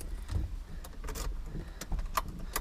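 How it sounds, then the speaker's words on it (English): Keys for a Datsun 280ZX jangling inside the car, with faint intermittent metallic clinks over a low, quiet cabin rumble. "Here's the key."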